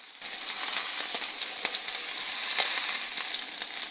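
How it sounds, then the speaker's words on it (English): A ribeye steak sears on its ends in a hot cast iron pan, giving a continuous bright sizzle and crackle with scattered small pops, close and fairly loud, with no talking. "I like to sear the ends first, that way it locks in all the flavor all the way around the steak"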